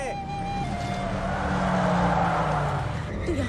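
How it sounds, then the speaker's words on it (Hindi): A car circling round and round in a village yard, its engine droning steadily and fairly close with a faint tyre squeal near the end, while people talk over it. "ये किसकी कार है और गोल गोल क्यों घुमा रहा है?"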